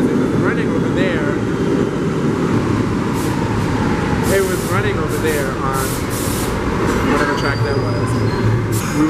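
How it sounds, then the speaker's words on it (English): A subway train runs along the opposite track in Brooklyn, a loud continuous rumble and screech filling the clip, with voices and street bustle mixed in. "clearly the train is running on opposite track"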